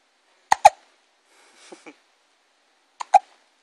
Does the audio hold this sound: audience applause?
no